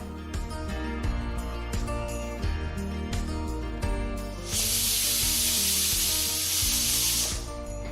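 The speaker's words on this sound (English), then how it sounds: "now I'm going to pressure cook the mutton pieces for about 20 minutes on medium to low flame" A pressure cooker cooking mutton pieces on a medium-low flame releases a loud, steady hiss of steam over bright clattering music, lasting a few seconds near the end.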